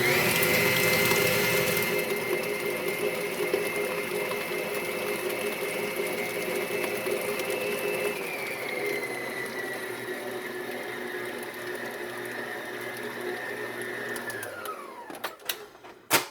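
A sweet potato pie filling with milk is whirred in a pot by an electric mixer, its steady motor drone running close and unbroken before winding down and stopping near the end.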